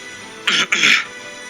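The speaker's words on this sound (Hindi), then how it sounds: "उसे दोबारा अपना गला साफ करके कहा" A single close throat clearing in two quick raspy bursts, a short one followed by a longer one, then quiet.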